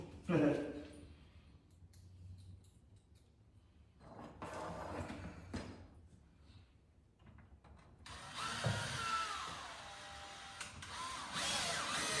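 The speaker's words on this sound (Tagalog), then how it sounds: "Screw natin, lagyan natin yung screw, mga bossing." A power drill drives screws while a bi-fold closet door is installed, with short, faint whirring bursts over a quiet room and people talking nearby.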